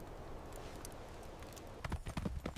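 Horse hooves clop and stamp near at hand, a few irregular heavy thuds arriving late after a stretch of steady outdoor background noise.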